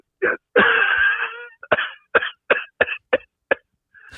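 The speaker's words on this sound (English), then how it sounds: "that sounds like a nasty cough you have." One person coughs repeatedly: a short cough, a longer harsh hacking fit, then a string of separate sharp coughs, close and with no talking.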